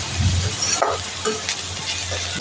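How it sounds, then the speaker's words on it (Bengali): Ginger and garlic fry in a pan with a steady close sizzle, broken by a couple of brief stirring scrapes and clinks over a short stretch, no voices. "এই দেখো আদা আর রসুনগুলো একটু ভাজা ভাজা হয়ে গেছে"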